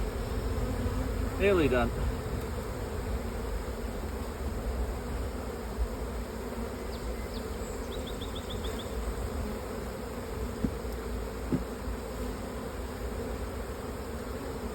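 Honeybees buzz thickly around beehive supers being shaken, a constant close drone with occasional chirps above it and a voice speaking briefly.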